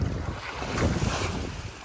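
Wind blows steadily across a pebbly, rocky shoreline, buffeting the microphone with a dense, rough rush that swells and eases slightly over a couple of seconds, with no voices.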